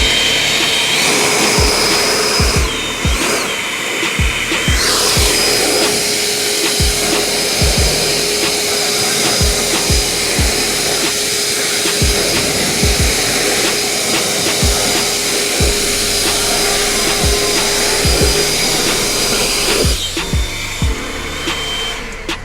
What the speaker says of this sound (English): now I'm gonna get my leaf blower and blow them out